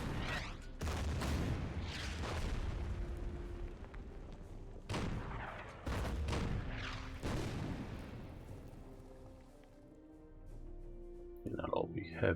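Artillery fire in the video game Order of Battle: Red Steel, a series of heavy booming shots at irregular intervals with ringing tails, loud and close, while a voice talks over part of it.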